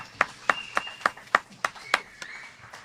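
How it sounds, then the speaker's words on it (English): A round of applause for young peace partners at a one-day men's event: a few sharp, evenly spaced claps ring out about three times a second, distinct and close, tapering after a handful. "let's give another round of applause for our young partners in peace"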